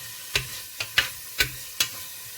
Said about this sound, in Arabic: هلا نضل نقلب باللحمة لحد تقريبا ما تستوي 3/4 السمنة